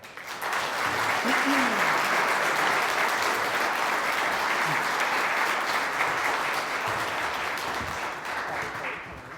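A room full of people at a public policy speaker event applauds steadily to welcome the New Jersey environmental protection commissioner, a dense, sustained clapping that fades slightly at the end.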